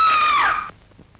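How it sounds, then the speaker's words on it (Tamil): A grandmother's scream in a Tamil feature film starring Sivaji Ganesan: one loud, high, harmonic-rich wail lasting about two thirds of a second, sliding slightly downward before cutting off into quiet room tone. "உங்க பாட்டி ஏன் இப்படி அலறுகிறாள்?"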